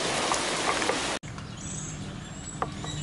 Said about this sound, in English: I'm waiting for this rain to calm down a little bit